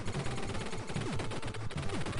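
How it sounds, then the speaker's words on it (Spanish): Rapid machine gun fire from the Super Contra video game, a dense stream of retro electronic shots with sliding synthetic effects, loud and continuous over about two seconds without speech. "Y ahí conseguimos el poder de la ametralladora."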